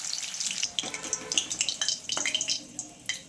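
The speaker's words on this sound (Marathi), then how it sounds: "तेल आपलं छान तापलं आहे. ते मिरच्या तळून काढून घ्यायच्या." Green chilies sizzle and crackle in hot oil, with irregular bursts of popping and spitting that come close together and stay at a moderate level throughout.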